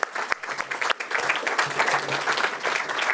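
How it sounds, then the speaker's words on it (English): An audience at a book prize award ceremony claps. The applause is moderate and fairly quiet, with uneven, pulsing claps lasting about three seconds. "So a little applause for."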